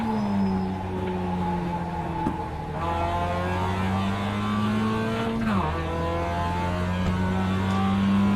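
A race car engine in a racing video game drones steadily and loudly, its pitch sweeping up and down through gear changes, with a sharp drop near the middle as a downshift blips the revs before the note climbs again.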